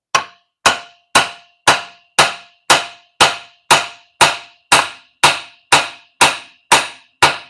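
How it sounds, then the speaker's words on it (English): Hammer blows land on a workpiece at an even pace, about fifteen sharp, loud metallic strikes roughly half a second apart, each ringing briefly before the next. No one talks. "wrong hammer for the job."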